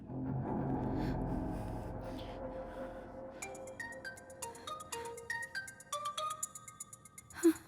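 A melodic phone ringtone plays a descending run of bright electronic tones, quiet and clear after a soft low murmur.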